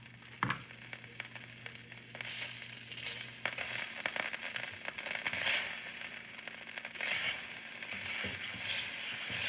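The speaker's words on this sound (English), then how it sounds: "That's a good sizzle right there." Steady frying sizzle of bread on a hot pan with crackling pops, close and continuous, rising in intensity at moments, with occasional clatter from a utensil.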